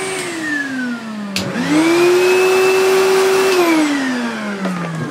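A 2014 Numatic pneumatic vacuum cleaner on high power switches off and winds down, then is switched on and spins up to a loud steady whine with airflow, holds, and winds down again, close and without talk.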